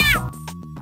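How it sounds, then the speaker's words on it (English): A stressed stock cat yowl plays as Garfield takes damage in a video game: one loud, close, sharply falling meow, followed by quieter game sounds. "When he takes damage, he makes like a stock stressed cat noise"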